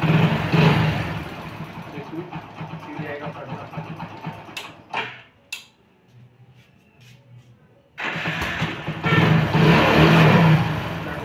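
A motorcycle engine runs after starting, a rough mid-pitched idle and revving that drops away briefly before picking up loudly again, with someone talking over it.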